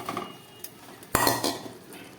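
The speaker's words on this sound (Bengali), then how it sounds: "এবারে আমি এখানে দিয়ে দিচ্ছি ভেজে রাখা আলুটা।" Fried potatoes are dropped into a pan of chicken cooking in mutton fat, with a few clattering utensil knocks and scrapes against the pan and one sharper clank in the middle, no talking.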